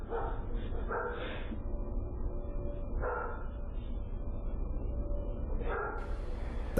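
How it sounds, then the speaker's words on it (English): A dog barks in short, sharp bursts, several separate barks spaced over a few seconds against a steady, loud background hiss, with no one talking. "that dog's going crazy"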